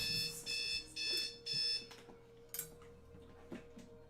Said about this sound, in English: guess my alarm was set.